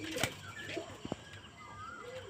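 Pigeons coo softly in a few short calls, with faint clicks and a possible wing flap, under a hum of quiet outdoor background on a summer morning; a voice speaks faintly.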